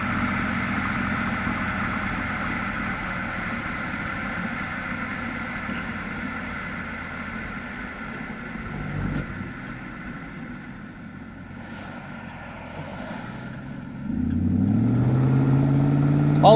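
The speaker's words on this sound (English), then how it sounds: "Cruises down this road at 70, 75 miles an hour like a brand new car." A 1999 Pontiac Firehawk with a 5.7-litre LS1 V8 and automatic gearbox cruising at highway speed, a steady low engine drone and road roar heard from inside, swelling louder near the end.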